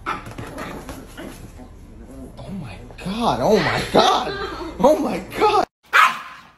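A dog whimpers and yips in short bursts close by, mixed in with people talking and exclaiming over it.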